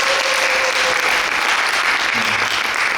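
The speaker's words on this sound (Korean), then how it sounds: "박수 한번 부탁드립니다." Steady, dense applause from an audience at a book concert and talk by an essay author, loud and continuous throughout with no talking over it.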